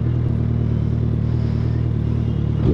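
A Suzuki Hayabusa motorcycle engine runs close by with a steady, loud, throbbing low drone and a slight swell at the very end, with no voices.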